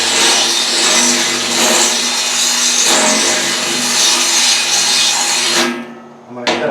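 A power tool cuts through diamond plate steel for a grill hood, a loud, continuous, close grinding rasp that holds steady for several seconds and then cuts off abruptly.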